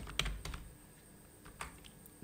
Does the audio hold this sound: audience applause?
no